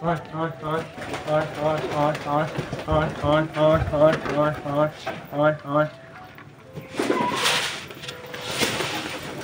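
Pigeons coo in repeated throaty bursts close by while feeding, a steady run of calls that gives way to rustling and a voice talking.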